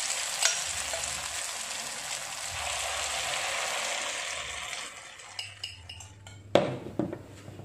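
Coconut egg omelette frying in hot oil, a steady loud sizzle under foam, then quieter with a few clinks of a utensil against the pan near the end.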